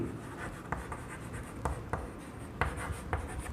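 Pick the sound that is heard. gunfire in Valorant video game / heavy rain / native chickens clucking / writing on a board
writing on a board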